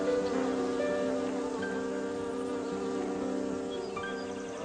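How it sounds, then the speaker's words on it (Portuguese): Small flies buzz continuously as they fly about close by, a steady, dense insect drone with no voices. "são moscas e voam como loucas o tempo todo"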